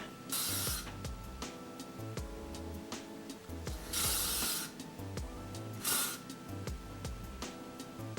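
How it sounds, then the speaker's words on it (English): L'Oreal hairspray is sprayed onto hair in three separate hissing bursts, the longest near the start and two shorter ones later, over continuous background music. "I've got some L'Oreal On That hairspray here."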